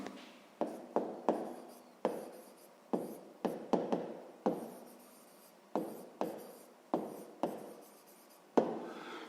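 A pen writes out the answer to a sixth-grade math exercise by hand: a close series of short, scratchy strokes in quick bursts with brief gaps. No one speaks.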